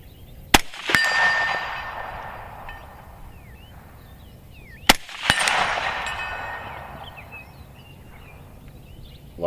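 Two sharp 6.5 Grendel rifle shots about four seconds apart, each followed by the ringing clang of a small steel silhouette target at 100 yards and a long rolling echo.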